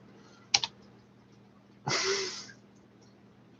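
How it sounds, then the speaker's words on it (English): Typing on a computer keyboard: a quick pair of sharp key clicks, then a longer burst of rustling clatter about half a second long, and a final single click, close and fairly loud with no talk. "I'll just keep typing something different."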